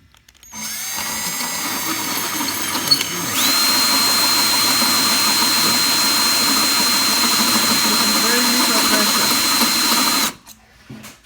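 A power drill whines at a steady high pitch, boring through a thick stainless steel sink, spinning up briefly then running continuously for several seconds before stopping abruptly.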